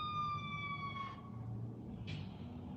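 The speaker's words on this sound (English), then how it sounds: "We've got an ambulance coming down the street." An ambulance siren wails down a street, a steady tone that breaks off, then returns with a short whoop, heard from some distance over low traffic rumble, no voices.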